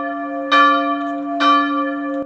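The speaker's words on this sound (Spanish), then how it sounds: "a las 12 nos volvieron a obsequiar con otro recital" Large church bells in Gdansk ring loud and close, two heavy strikes about a second apart over a steady sustained metallic hum that lingers between them.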